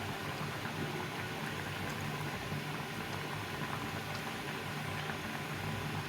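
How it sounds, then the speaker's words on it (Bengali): Lentil fritters simmering in a boiling broth, giving a steady, even bubbling hiss that holds at a constant moderate level throughout, with no voices. "এইভাবে করে ফুটন্ত ঝোলের মধ্যে বড়াগুলো দিয়ে দিল"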